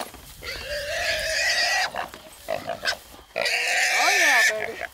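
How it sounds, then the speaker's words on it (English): Pig grunting and squealing during a hog hunt, loud and close in rough bursts, with excited people shouting over it. "They're fixing to catch that pig there."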